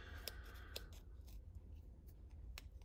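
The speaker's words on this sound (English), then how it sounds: "for just a little pair of scissors to cut paper or to cut on some cardboard, some light cardboard" Small multi-tool scissors from a Bic lighter case snip through paper or light cardboard, a few sharp, quiet metallic cuts spaced about half a second apart, close up with no talking.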